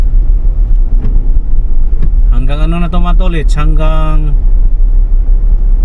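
Heavy road traffic on Quezon Avenue, a steady low vehicle rumble throughout with close engine drone, under someone talking continuously.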